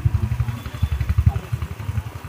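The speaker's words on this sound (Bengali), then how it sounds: "মজা লাগে রাত্রেবেলা রাস্তায় বাইকে করে যেতে।" A motorcycle ridden along a road at night gives a steady, fairly quiet mid-range engine thrum with rhythmic pulsing, close to the listener, with no talk.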